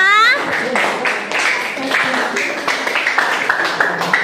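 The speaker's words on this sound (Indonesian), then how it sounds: "tepuk tangan yang meriah untuk kalian semuanya" Schoolchildren in a classroom applauding their classmates after group presentations, with lively clapping that picks up and grows more distinct toward the end, mixed with young voices chattering.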